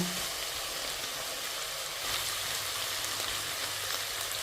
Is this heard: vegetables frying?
yes